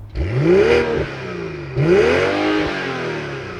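The inline-six engine of a 2022 BMW X3 M40i revs twice from outside the car, each rise a rising howl that falls back, the second held longer before settling near idle.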